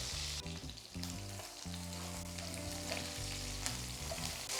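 Food for Hyderabadi biryani fries in a pan, a steady close sizzle with crackling spatter and a low hum running underneath, no voices.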